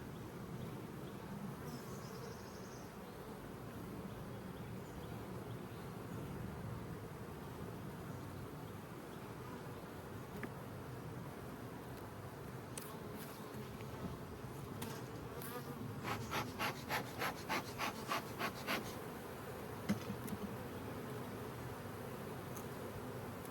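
Honey bees swarm around an opened hive during an inspection of honey supers and brood chambers, a dense continuous buzzing close by with brief louder passes of individual bees near the microphone.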